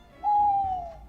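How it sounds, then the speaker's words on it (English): A single owl-like hoot from a night bird in a birch wood: one clear, steady call held for about half a second, sounding fairly close and alone against a quiet night. "the night birds awoke and answered him"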